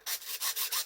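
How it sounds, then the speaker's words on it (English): A metal file scrapes back and forth across a soldering iron tip, giving four short, rhythmic rasping strokes, close and fairly quiet, with no talking. "this file out and just clean it up a little bit"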